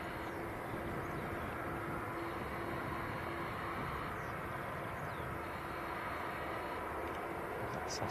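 Embraer jet taxiing or departing at Manchester Airport, a steady broad engine roar holding at constant loudness throughout, with a faint whistling tone on top and no speech.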